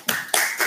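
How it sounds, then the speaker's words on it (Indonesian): Three sharp bursts of hand clapping from a classroom, close and fairly loud, evenly spaced within under a second. "Tepuk tangan."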